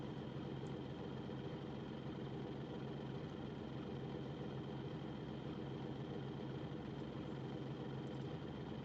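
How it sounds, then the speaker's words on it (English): A Class 14 diesel locomotive engine in Train Simulator runs with a steady, unbroken drone that holds its level throughout, a quiet, even mechanical rumble with no talking over it. "Let's just shut down the engine."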